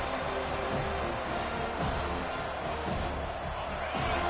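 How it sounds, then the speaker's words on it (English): Home football crowd at a stadium: a steady, dense roar of many voices cheering throughout, with occasional sharper bursts and thuds mixed into the wash. "Here comes this home crowd"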